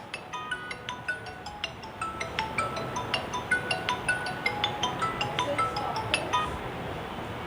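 A mobile phone's ringtone for an incoming call plays during a lecture: a faint, repeating pattern of bright chiming tones cycling rhythmically without pause.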